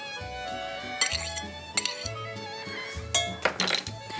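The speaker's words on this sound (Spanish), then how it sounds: "eso lo voy a romper con un tenedor, porque a veces resisten a la varilla" A fork clinks and scrapes against a bowl while breaking up and mixing ingredients, irregular metallic taps and rattles up close, with a voice speaking over them.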